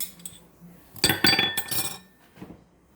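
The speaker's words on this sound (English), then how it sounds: "I'm going to stir everything around." Metal utensil scrapes and clinks against a pot while cabbage soup ingredients with sliced sausage and minced garlic are stirred, a short cluster of close knocks and rattles between quiet moments.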